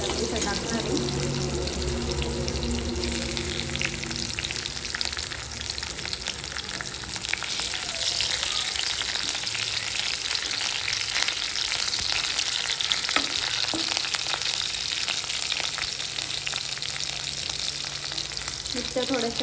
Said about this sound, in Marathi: मिरच्या थोड्याशा परतून घ्यायच्या